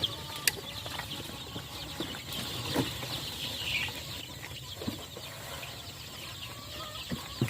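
Chickens cluck softly and intermittently inside a Joper chicken coop housing young chicks, scattered short calls and light clatter over a low steady background hum, no talking.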